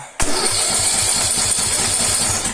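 A Viking MR 385 lawn mower engine catches on its starter and fires straight into a loud, steady, close-up running drone with a rhythmic low pulse, no voices over it.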